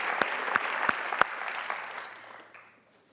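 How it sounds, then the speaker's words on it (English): Conference audience applauding contributors after a talk, a steady wash of many hands clapping with a few sharp close claps standing out, gradually fading away over about three seconds. "maybe a big round of applause for the contributors of the sessions and the book"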